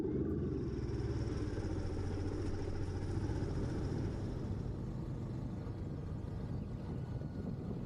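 A motorcycle fitted with a Nemo 2 chain oiler rides along the road, giving a steady, close engine drone with continuous wind rumble and no talking.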